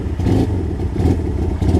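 A 1973 Honda CL175 motorcycle engine revving while cold, a close, loud, rough mid-range rumble with uneven throttle blips and mechanical clatter, no talk.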